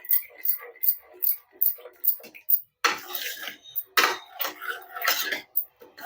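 Spoon mixing chilli powder into a dal in a steel vessel, a rhythmic series of sharp clinks and scrapes close up, with someone talking in between.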